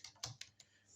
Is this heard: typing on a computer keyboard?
yes